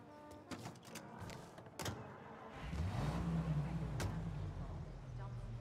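Car engine in Mafia Definitive Edition rising into a steady low hum as the car pulls away and drives on, heard alongside brief clunks and a short exchange of talk.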